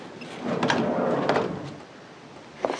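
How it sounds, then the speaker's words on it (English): A jammed door is forced open in a tense scene, heard as a broad rattling, scraping rumble with a few sharp knocks over about two seconds, then a quieter stretch and one last thud. "Sorry, the door was jammed."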